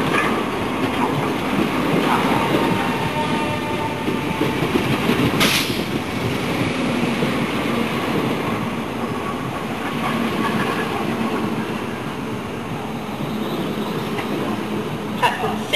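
A Class 465 electric multiple unit pulls into London Bridge station, its steady rumble and rail clatter filling the platform throughout, with a brief sharper clank midway.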